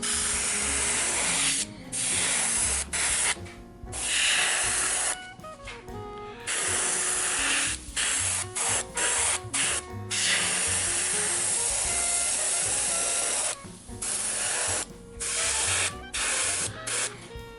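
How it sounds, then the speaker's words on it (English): An Iwata Eclipse airbrush sprays black paint onto a Dragon King miniature in short, close, hissing bursts, each lasting about one to two seconds and separated by brief pauses. "I'm going to be using my Iwata Eclipse, which is my go-to workhorse airbrush"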